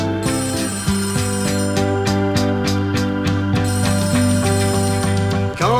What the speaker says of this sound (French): Quand le téléphone sonne, sonne, sonne